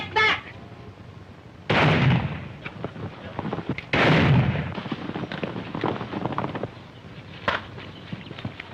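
Gunfire in a 1936 western film: two loud, booming shots with long echoing tails over a noisy old soundtrack, followed by fainter scattered reports and thuds in the background.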